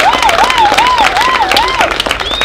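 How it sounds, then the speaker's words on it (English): Audience at a counseling and support event at a hospital clapping steadily and loudly, close by, with a shrill whistle warbling over the applause. "Can you join me by clapping for them?"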